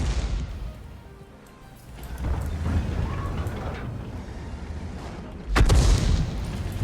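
In the video game World of Tanks, a tank cannon fires with a deep, heavy boom near the end, over a rumbling backdrop of distant battle noise.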